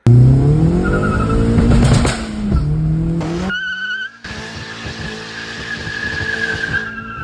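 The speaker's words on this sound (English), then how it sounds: "When I first set up my car, he put a hard cut rev limiter on it, 7K." A tuned VW Mk4 with a K04 turbo revs hard, then bounces off a hard-cut 7000 rpm rev limiter, giving a loud, close, rapid stuttering crackle as the engine note holds and chops.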